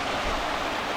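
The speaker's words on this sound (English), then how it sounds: "Water's just pushing in that hole, just bypassing and then going down." Creek water at Sherwood Creek Falls in New South Wales, Australia rushes steadily through a hole in the rock and pours down, a close, dense, even roar with no voices.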